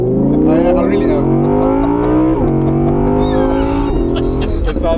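A 2017 Audi R8 V10 Spyder's engine revs loudly and climbs in pitch, dipping briefly at gear changes before rising again, close and dominant with people talking over it.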